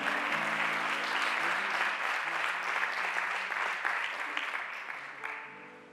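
A church congregation applauds warmly during a Spanish-language service, steady dense clapping that slowly thins out, with faint voices and sustained musical tones underneath.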